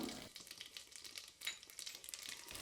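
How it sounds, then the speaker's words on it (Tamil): Faint, rapid crackling and popping of mustard seeds spluttering in hot oil with urad dal and cumin, continuous with small irregular bursts. "கடுகு பொரியறது"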